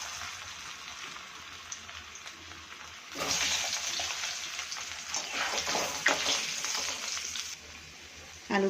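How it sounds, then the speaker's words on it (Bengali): Potatoes fry in hot oil in a home kitchen pan, a steady crackling sizzle that swells louder about a third of the way in and keeps popping busily, then eases back near the end. "এবার আলুগুলো ভেজে নিচ্ছি।"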